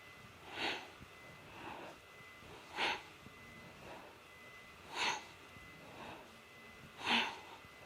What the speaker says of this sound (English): we breathe in when we twist to the right and then exhale to the left